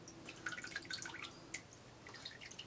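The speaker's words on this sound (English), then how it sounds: "normally what I do is bring it out of the water and let it just drain naturally" Water dripping from freshly soaked wet knitting as it is lifted out and left to drain, a quiet scatter of irregular close drops and trickles with no talking.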